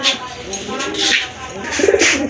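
Silver dom pigeons, large white-eyed birds, coo in several close, repeated bursts, with a voice talking faintly beneath.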